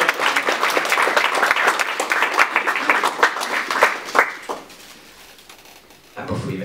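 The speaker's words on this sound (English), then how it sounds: "a round of applause for the winner" Audience applause for the winner at a poetry festival event, a sustained dense burst of clapping from a crowd that tapers off, followed by a voice resuming.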